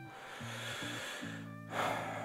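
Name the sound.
loud car radiator cooling fan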